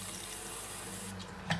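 Water runs steadily into a pot of cooking mutton liver (kaleji), a smooth tap-like rush that cuts off after about a second, followed by a single soft clunk.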